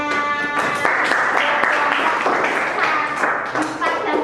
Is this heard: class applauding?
yes